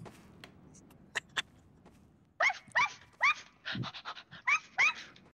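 Dog in a Harry Potter roleplay video game panting and whimpering in rapid bursts, close and fairly loud, with a few faint sounds before the panting starts.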